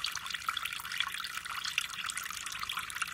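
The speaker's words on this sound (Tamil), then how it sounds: "வாட்டர் ஃபவுண்டன் மாரி அப்படியே தண்ணி நல்லா ஃப்ளோ ஆகுது" Water trickles steadily through a homemade fountain built from a plastic water bottle, a continuous light splashing and dribbling close by with no voices.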